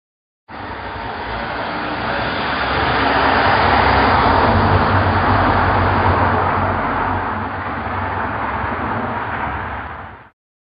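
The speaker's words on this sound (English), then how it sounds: "London taxi." A London taxi toy plays a recorded traffic sound effect: a continuous, band-limited rumble of road noise and engine that swells and then eases over about ten seconds before cutting off abruptly.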